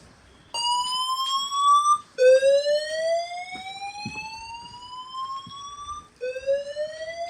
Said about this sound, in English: Okay, that's been triggered. It's definitely an alarm.